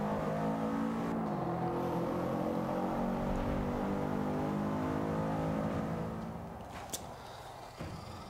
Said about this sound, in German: Gas geben, rausziehen, beschleunigen, Gas geben, hat Gas